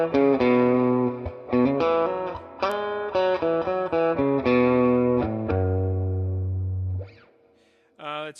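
An electric guitar played through a Swart AST combo amplifier with its reverb space knob at about 5, a run of distinct notes and chords ringing out with a reverberant tail, the last sustained note fading before a brief final strum.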